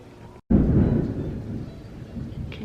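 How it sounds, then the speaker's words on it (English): Thunder rolls in during a thunderstorm, a sudden loud low rumble after a brief gap that sustains and slowly fades over a couple of seconds, close and heavy with no voices. "Can you hear the thunder?"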